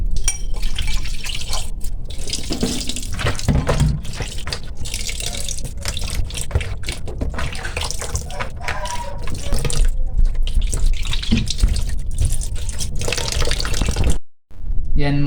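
Tap water running steadily into a sink while meat is washed, a continuous splashing gush with drips and handling, loud and close, cutting out briefly near the end.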